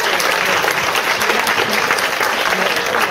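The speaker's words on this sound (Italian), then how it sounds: "Un applauso ancora alle mamme e alla regista" Audience applause at a charity Mother's Day comedy show, a dense, steady round of clapping from a full crowd, loud and close, filling the whole stretch.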